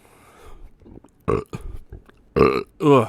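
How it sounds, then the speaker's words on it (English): A series of loud, drawn-out burps, several in a row with short pauses between them, close and unaccompanied by talk. "need a burp"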